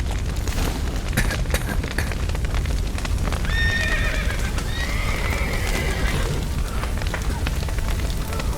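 Several horses neigh and whinny in The Witcher 3 game, drawn-out calls rising over a constant rumble of fire and a collapsing burning building, with hoof clatter and distant shouting voices underneath.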